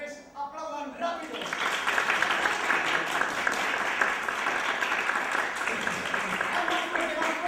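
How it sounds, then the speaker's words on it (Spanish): Theatre audience clapping fast on cue after a juggling act, a brief voice at the start, then a dense, loud, sustained burst of rapid applause. "A la de 1, a la de 2 y a la de 3, aplaudan rápido."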